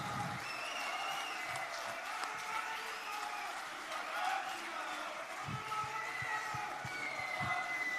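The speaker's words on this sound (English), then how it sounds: "Let us give a huge round of applause." A bank officers' federation council audience applauds a retiring comrade, a steady wash of crowd clapping heard from within the hall, moderately loud and continuous with a few heavier thumps.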